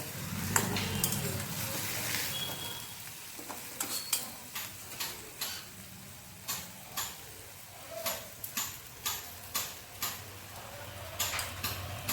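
Eggplant and greens fry in a pan under a soft continuous sizzle while a spatula or spoon stirs them, giving a string of sharp, close scraping clicks and taps in an irregular rhythm.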